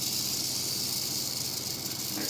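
A snake hisses from inside a cloth bag, a steady, breathy hiss held close and continuous for the whole stretch with no talk over it.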